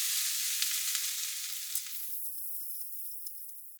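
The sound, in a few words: potatoes and onions frying in oil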